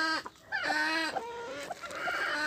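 A white hen clucks among her newly hatched chicks, close by with repeated short, pitched calls and rising cheeps running continuously without pause.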